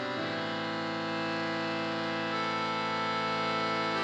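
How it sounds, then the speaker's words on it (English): A sustained, buzzing distorted electric guitar chord rings out alone, thick and steady with a gritty edge, holding without fading. "Let's put a little distortion on it."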